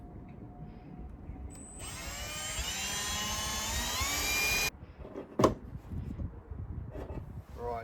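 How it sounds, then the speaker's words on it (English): A Milwaukee power drill whines at high pitch for about three seconds, rising steadily as it bores into a Mercedes Sprinter van's metal body, then stops; a brief clatter and a short spoken word follow. "Time to just drill."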